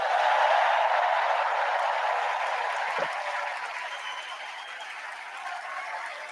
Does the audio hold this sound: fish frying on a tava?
no